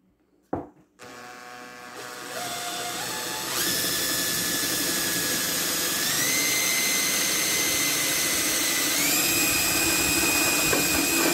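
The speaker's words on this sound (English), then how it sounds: "so that when you drill through it, it doesn't crack the bucket" A power drill whines steadily through a plastic bucket, its pitch stepping up in stages as it bites, loud and continuous after a brief knock at the start.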